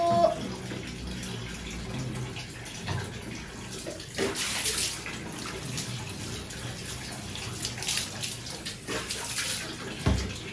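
Water splashes and trickles during a bath in a tub, a soft continuous wash with occasional brighter splashes close by.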